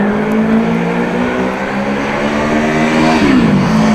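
A motorbike engine drones loudly and climbs in pitch as it accelerates hard in a long first gear on a road between Groningen and Appingedam, then the tone drops briefly before rising again.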